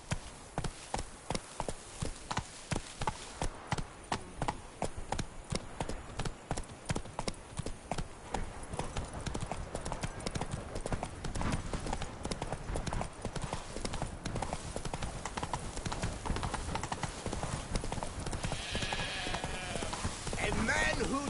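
Roach, a horse in The Witcher 3, gallops with rapid rhythmic hoofbeats under steady talk, the clip-clop slowing and fading partway through as other sounds take over.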